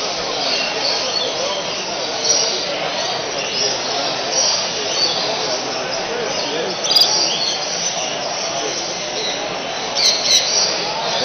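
African grey parrots at a bird show in Gunnedah, New South Wales, let out a few brief sharp squawks late on, over a constant hiss of outdoor background noise.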